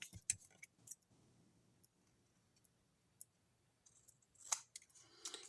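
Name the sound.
scissors cutting paper for a card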